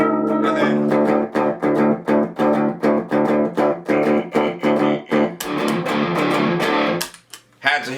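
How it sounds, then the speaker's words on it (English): Distorted electric guitar playing a rhythmic run of repeated chopped notes, then swelling into a thick, heavily distorted sustained sound near the end, loud and up front. "to hit the big old distortion on the end there"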